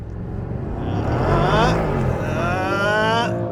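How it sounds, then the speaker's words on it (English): A 2021 Mercedes-AMG GLE 63 S V8 SUV roars as it accelerates hard, the pitch climbing through rising gears, loud and close, with no talking. "Let's put that V8 power to good use."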